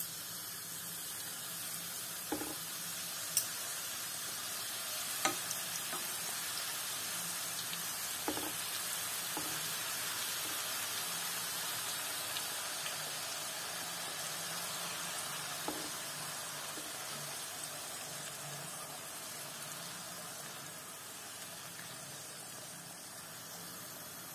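Continuous soft sizzling of thin Tatar flatbreads (chelpek) frying in hot oil, with occasional sharp clinks and taps of utensils over the steady hiss.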